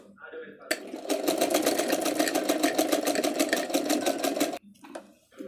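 An electric sewing machine stitches a blouse shoulder seam in one steady, rapid burst of needle clatter lasting about four seconds, close and loud, then stops abruptly.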